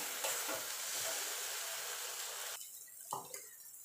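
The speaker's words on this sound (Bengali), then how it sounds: "জলটা শুকিয়ে যাওয়া পর্যন্ত একটুখানি নাড়াচাড়া করে নেব" Taro leaf paste stirred in a wok over heat until dry gives a steady close sizzling hiss with scraping strokes, which drops off sharply partway through, leaving a few faint clinks.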